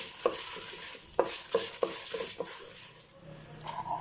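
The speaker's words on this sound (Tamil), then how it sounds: "இதுலேயே நம்ம மறுபடியும் கீரை போட்டு இந்த ஆயிலில் ஃப்ரை பண்ண போகிறோம்" Drumstick leaves frying in oil crackle softly while a utensil scrapes and taps the pan in several quick strokes, close and moderately loud with a light sizzle underneath.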